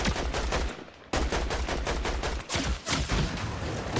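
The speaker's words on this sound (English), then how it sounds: "There was some shooting over here." Rapid bursts of automatic gunfire from several shooters in a ranked online shooter match on the Classified Canyon map, loud and continuous, with a brief lull near the one-second mark before the volleys resume.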